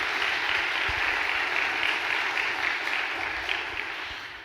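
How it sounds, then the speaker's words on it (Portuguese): A church congregation applauds during a priest's sermon, sustained dense clapping that fills the room at steady strength before tapering slightly toward the end. "pode aplaudir mesmo"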